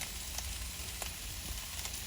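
Onions fry in a pan for a salmon dinner, giving a faint, steady sizzle with a few soft pops and crackles, no voices over it.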